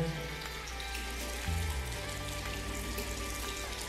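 A bathroom tap runs steadily while someone washes their hands. The water makes a faint, continuous splashing hiss with a low hum underneath, and no one speaks.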